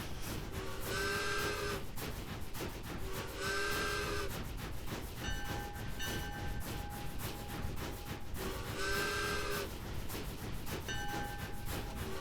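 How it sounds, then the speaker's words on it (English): A train in the video game Ark Ascended gives off repeated steady whistle tones alongside a ringing bell, set against a constant rumbling, hissing roll of the wheels on track. "I didn't actually realize the train had a bell and a whistle"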